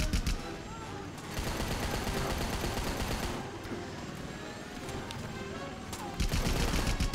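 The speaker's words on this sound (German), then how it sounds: "Jetzt schießt er wieder." Turret gunfire in Rambo The Video Game, rapid sustained bursts of automatic shots that are loud and dense, pausing briefly midway before resuming, with game noise around them.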